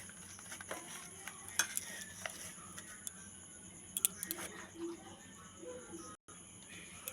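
Soybean chunks and gram flour being mixed and kneaded by hand in a bowl give quiet, soft squelching and rustling with a few small clicks against the dish, steady through the clip.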